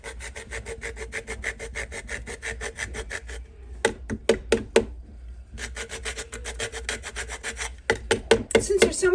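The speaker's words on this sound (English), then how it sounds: "It's very easy to grate because it has sort of air between its little fibers" Seed-grown cake being grated, a dry rhythmic rasping of repeated strokes that runs steadily, pauses, then resumes in shorter bursts, close and clear.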